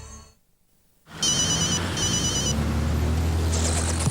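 Mobile phone ringtone playing an AFL club song in a 2000 Optus ad, a bright electronic melody that starts suddenly after near silence and carries on loud and steady under a low hum.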